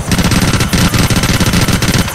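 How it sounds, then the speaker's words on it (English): An Annihilator helicopter's machine gun in Grand Theft Auto 4 fires a loud, rapid, unbroken stream of shots at an even rhythm, with no voices over it. "The machine gun sound sounds so much different"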